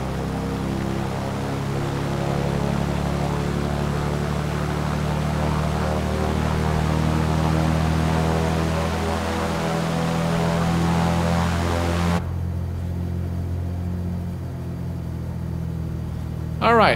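Simulated Piper PA-28R Turbo Arrow piston engine in Microsoft Flight Simulator 2020, a steady droning hum with a low rumbling throb that holds evenly, then shifts abruptly to a thinner, quieter tone near the end.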